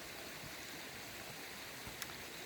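Steady, moderately loud rush of flowing water in cold outdoor air where ducks float by, a continuous broadband wash with no voices.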